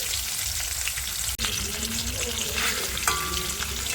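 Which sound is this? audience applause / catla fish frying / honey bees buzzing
catla fish frying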